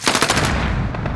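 Rapid automatic gunfire from an AK-47 rattles in the Call of Duty Modern Warfare video game, a loud, close burst of quick repeated shots that rings out over about a second.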